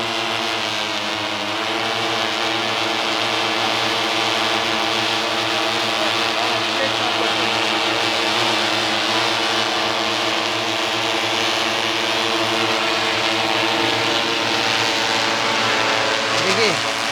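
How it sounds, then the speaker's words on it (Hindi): A DGCA-approved Indian six-rotor agricultural spraying drone hovers and flies nearby, giving a steady, loud rotor drone with stacked buzzing harmonics throughout, a voice talking over it. "गजब, ये तो एकदम हेलीकॉप्टर मोड में चल पड़ा।"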